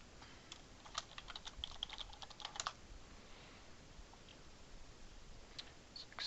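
Keys clatter on a computer keyboard in a quick burst of typing, light close clicks bunched in the first few seconds and then thinning to a few scattered taps against a quiet background.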